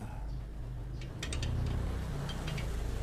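Wrench tightening a bolt on a motorcycle wheel during a tire and inner tube change, faint ratcheting clicks in a few quick bursts over a low background rumble.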